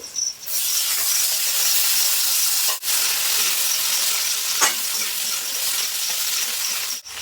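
Cut potatoes and green chilli sizzle loudly in hot oil with fried tempering spices, a steady close hiss and crackle that fills the whole stretch, broken by a couple of brief sharp clinks from a utensil.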